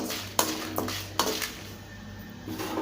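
Dried red chilies are roasted in a metal kadai, with a few sharp clinks and scrapes of a spatula against the pan at irregular intervals over a soft, steady background.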